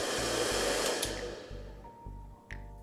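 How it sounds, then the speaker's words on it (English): A hair dryer runs on thin wires that cannot carry its current, a loud steady blower roar with a low hum that pulses on and off in regular beats as the power falters. "If I try to power a hairdryer using these thin wires"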